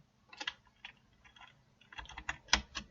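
Quick, light typing on a computer keyboard while writing game code, in two short bursts of close, soft key clicks separated by a brief pause.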